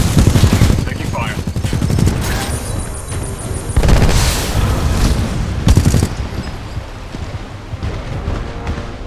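Loud gunfire in the first-person shooter Titanfall 2 comes in rapid automatic bursts and heavy booms, layered with game effects and voices throughout.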